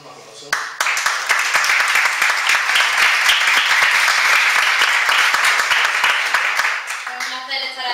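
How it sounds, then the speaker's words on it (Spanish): Audience at a Spanish-language talk on fairies and extraterrestrials breaks into sustained applause to welcome a speaker, dense and loud for several seconds before tapering off, with a voice briefly audible at the start and end. "con todos vosotros un aplauso."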